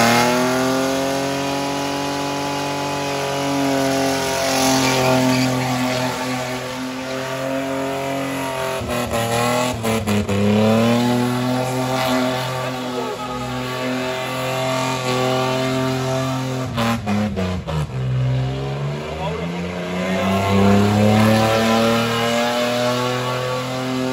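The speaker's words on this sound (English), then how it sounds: "Going for a skid with old Brian." A car skids while its engine revs hard and continuously, the pitch sweeping up and down in long surges with brief dips, loud and close throughout, no talking.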